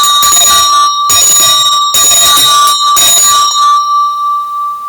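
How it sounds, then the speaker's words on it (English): A bell is struck four times in steady succession, each loud metallic ring sustaining a bright tone before the next strike, with the final ring fading out alone. "So let me ring a bell."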